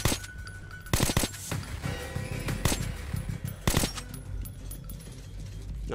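Gunfire in the video game Metro 2033: several loud bursts of shots ring out close by, separated by quieter stretches of ambient game sound.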